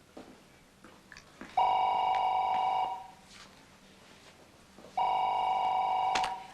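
A telephone rings in two long electronic bursts separated by a pause, loud and close in a quiet room, with faint background rustle and no speech.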